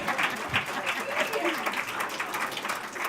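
Indoor audience at an adult-education awards ceremony applauding an award winner, a steady, dense wash of clapping hands that holds at even loudness throughout, with some voices mixed in.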